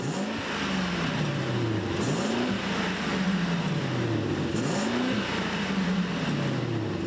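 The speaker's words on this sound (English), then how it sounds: "The engine note is like rolling thunder in the distance." A 2024 Mercedes-Benz GLS 580 SUV engine revs repeatedly, rising and falling in pitch several times, loud and close with a deep, rumbling, throaty tone.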